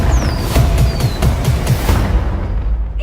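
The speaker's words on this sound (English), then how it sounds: "Are those fireworks? Yes, ma'am." Fireworks burst in a rapid series of loud, close booms and crackles, densest through the first two seconds before trailing off, with no voices heard.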